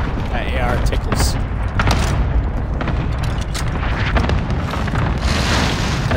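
An artillery strike rumbles through a shooter video game as a dense, loud wash of booming explosions and debris, continuous across the stretch with voices talking over it.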